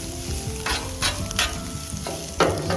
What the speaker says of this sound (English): I'm just gonna keep on cooking these vegetables for about 3 to 4 minutes or until we see some of the color of the onions start to caramelize